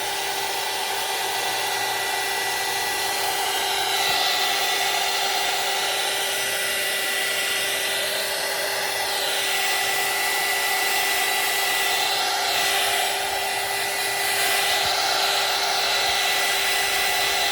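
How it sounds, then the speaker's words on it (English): A heat tool blows continuously to dry gesso paint on a craft embellishment base, a steady close whirring hiss with a constant motor whine and no pauses. "I'm going to use my heat tool real quick here. Dry it off a little bit better."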